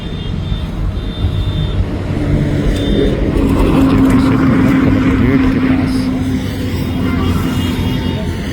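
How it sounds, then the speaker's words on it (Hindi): Steady traffic rolling smoothly across JP Setu bridge near the Collectorate in Patna, a continuous broadband drone of passing vehicles with a low engine hum, fairly loud throughout, with someone briefly speaking over it. "गाड़ियां बहुत ही स्मूथ चल रही हैं।"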